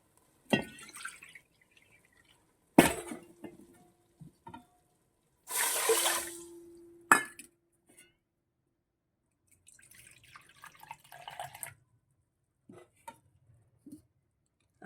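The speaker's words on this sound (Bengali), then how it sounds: "আর দেড় বাটি আমি জল দিলাম" Water is poured into a pot on a gas stove to make sugar syrup with sugar and cardamom. It comes as a few short, quiet splashes and one steady pour of about two seconds, with soft drips between and no voices.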